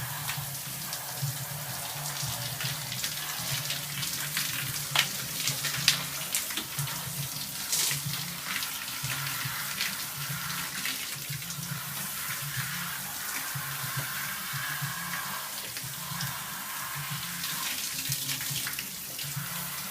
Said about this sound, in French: Et je vais rincer abondamment.